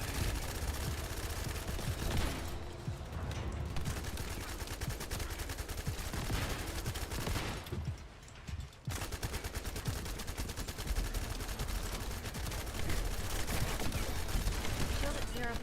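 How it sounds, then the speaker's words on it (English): Loud, rapid gunfire from the video game The First Descendant, near-continuous automatic bursts with two brief pauses, while a person talks over the shooting. "Let's go shoot up some stuff."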